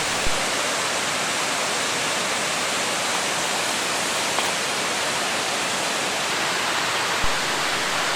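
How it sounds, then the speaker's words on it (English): A creek roars near Goldbug hot springs in Idaho on a full-moon night: a loud, unbroken rushing of water, dense and even throughout, with only a couple of tiny clicks. "with the roar of the creek behind us"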